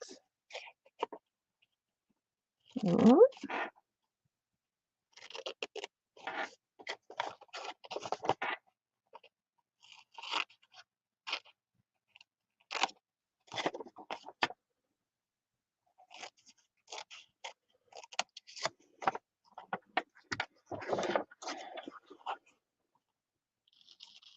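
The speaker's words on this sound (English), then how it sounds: "My larger scissors are not very sharp at the tip, so I'm running into an issue there." Scissors snip and trim squares off folded freezer paper in a quiet room, with a series of short, faint cutting and rustling sounds in uneven bursts.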